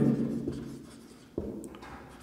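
Pen writing math on paper: soft continuous scratching strokes close by, with a small tap partway through, alone without talk.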